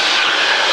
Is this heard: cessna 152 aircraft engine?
yes